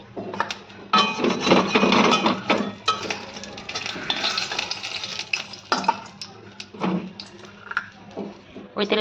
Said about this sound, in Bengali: আমি 5 ফোড়ন, শুকনো লঙ্কা দিয়ে দিলাম।